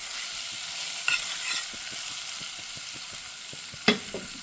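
Cumin powder stirred into yuca sautéing in a pan, a steady hiss of sizzling oil with a regular tapping of the spoon against the pan and a sharper scrape near the end.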